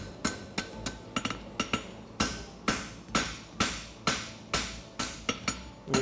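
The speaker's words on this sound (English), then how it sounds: "Now I'll put on tapered heel, forging it to center." Hammer blows on a horseshoe while a tapered heel is forged on a concave hunter shoe, a steady run of sharp metallic strikes with ringing decay, some faster double taps between heavier regular blows, close and loud with no talk.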